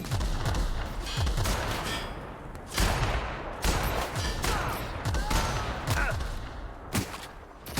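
Rapid gunfire from a firefight in the video game The Outer Worlds: loud, repeated bursts of shots and sharp cracks, some overlapping in clusters, with brief gaps between volleys.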